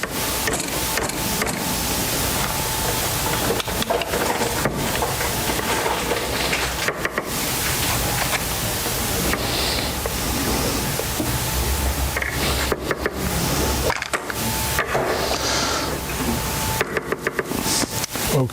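A home ice cream machine churns a Nutella hazelnut ice cream base with a steady mechanical whir and rubbing drone, running continuously with no talk.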